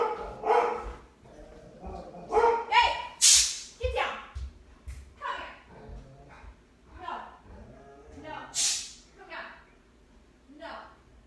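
A pet dog barks and yips in sharp, loud bursts at passing dogs, spaced irregularly across the stretch, with a person talking in between.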